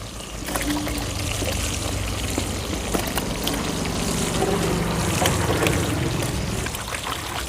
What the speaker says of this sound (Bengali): আর একবার আমি পরিষ্কার জলে ধুয়ে নেব